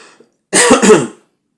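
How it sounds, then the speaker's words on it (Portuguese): A single harsh cough burst close to the mic, lasting about half a second, preceded by a faint breath and followed by silence. "Perdão, meus amigos, pela tosse."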